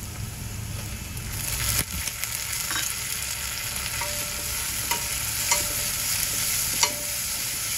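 Tomatoes sizzle steadily in a pan with browned onion, curry leaves and cloves for a wet cashew curry, with occasional sharp clicks of a stirring spoon over the continuous hiss.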